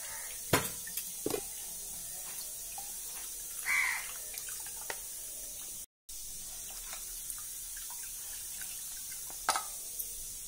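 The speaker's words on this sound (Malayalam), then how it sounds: "ഇത് അരിപ്പയില് ഒഴിച്ചെടുക്കുകയാണേ" Ground finger millet mixed with water is poured through a kitchen sieve for a payasam, giving a quiet trickle and soft splashing with a few small clinks, no voices.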